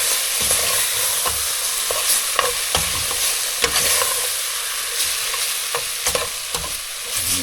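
Freshwater mussel curry stirred and sizzling in a pot, a loud, continuous hiss of frying with repeated scraping strokes of the spoon against the pot.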